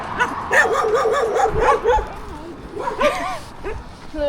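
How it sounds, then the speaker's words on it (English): Five or six dogs at a campsite in Türkiye yip, whimper and bark excitedly up close, high whining cries overlapping in bursts, with a person's voice mixed in. "there's like 5-6 dogs all jumping up at me, wanting cuddles and a bit scared."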